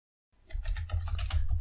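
A password is typed on a computer keyboard: after a brief silence, a quick run of close, crisp key clicks taps along in an uneven rhythm, with no voices.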